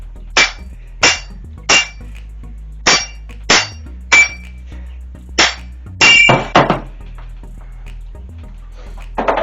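A steel axe head is hammered down onto a hand-carved wooden handle, giving about ten sharp, loud metallic clangs spaced roughly half a second apart, with a final quick cluster near the end. No one talks.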